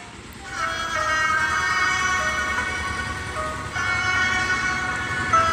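Road traffic passing beside a Shiva temple in Kalna, Bengal, a steady engine rumble under sustained, droning horn-like tones, loud and continuous.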